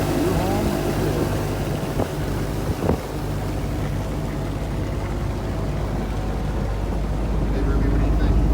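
Seaflite 179SS motorboat cruising at an easy pace under outboard power, a continuous near hum of the motor blended with hull slap and wind buffeting, with a couple of brief knocks early on.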